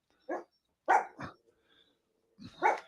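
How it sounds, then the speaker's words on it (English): A dog barks indoors, several short separate barks with gaps between them, fairly close and clear, and no talking over them. "My dog's barking."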